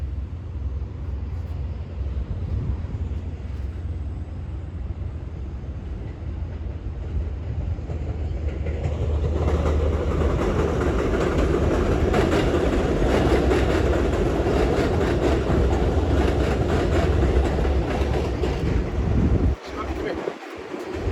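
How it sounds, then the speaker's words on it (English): Amtrak Empire Service train emerging from the tunnels near Hunterspoint Avenue, a steady rumble building into a louder rolling roar of passing cars with wind noise, ending in a brief drop. "An Empire Service Amtrak just came from the tunnels."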